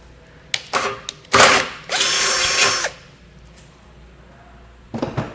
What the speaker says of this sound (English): It's very hard material, so it's not uncommon for this to be difficult to drill